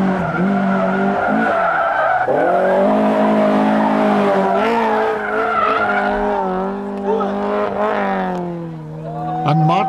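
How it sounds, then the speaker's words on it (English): BMW rally car at a Barbados rally sliding sideways, with loud, sustained tire squeal and a strained, wavering engine note; the car is close, and a voice may be present. "Drive a beamer and throw it sideways."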